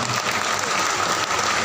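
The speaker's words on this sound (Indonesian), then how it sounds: "kita beri apresiasi kepada, tepuk tangan kepada para dokter ya" A congregation at a thanksgiving mass applauds the doctors, a dense, loud and continuous wash of clapping throughout.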